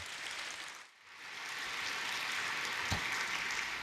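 A church congregation at a dawn prayer service applauds in a steady, dense wash of clapping that swells after a brief lull and continues without talk, heard from a moderate distance.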